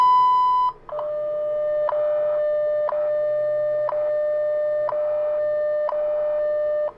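Telephone time-signal line from WWV: a steady pure tone, then a series of regular pulsed beeps about once per second, clear and loud with no voice.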